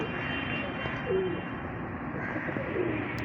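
A Kamgar pigeon gives a couple of soft, low coos over a steady background rumble, close but quiet.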